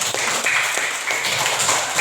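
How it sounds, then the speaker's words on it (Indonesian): Elementary classroom applause for a fourth-grade student, a steady dense wash of many small hands clapping together, loud and close, filling the whole moment without pause. "berikan tepuk tangan untuk Anjani."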